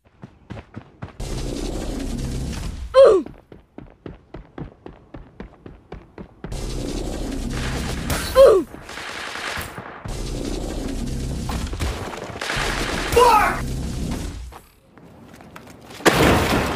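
A railgun in the game Creative Destruction charges with rapid repeated ticks, then fires a sharp whooshing shot, and this happens three times in a row, set between stretches of louder game noise.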